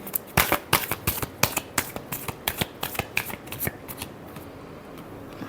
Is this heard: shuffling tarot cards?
yes